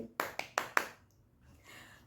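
A person claps four times in quick, close succession, crisp and dry, during a home knee-exercise session, followed by near quiet with only a faint, soft rustle.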